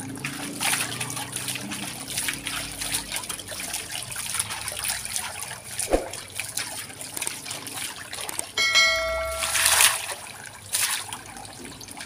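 Water pouring into a fish pond, a steady close trickle and splash running throughout, with a brief louder gush near the end.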